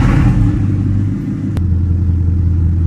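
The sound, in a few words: Bugatti Chiron engine starting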